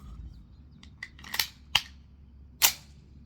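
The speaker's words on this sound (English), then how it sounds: "I'm going to use the slide stop to chamber around." The slide stop of a CZ Shadow 2 pistol released to chamber a round, with a few light metallic clicks followed by sharp, close snaps of the slide racking forward, distinct and isolated.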